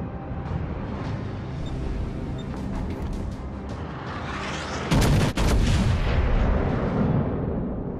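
Warship artillery pounding in a naval battle, loud overlapping booms and rumbling blasts close up, building to a heavier burst of salvos midway.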